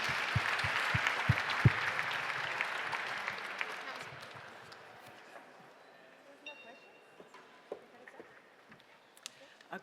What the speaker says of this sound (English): If you could give a round of applause to the panelists